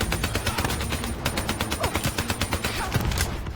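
Rapid gunfire in the video game Call of Duty: Black Ops 3, a rhythmic burst of automatic shots with sharp individual cracks, close and fairly loud over a busy game soundscape.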